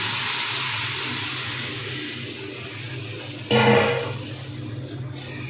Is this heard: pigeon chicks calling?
no